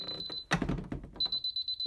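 A DSC PC1515 security system sounds its door chime: a high electronic beep, broken by a clunk as the door is handled, then starting again as rapid pulsed beeps, close and fairly quiet.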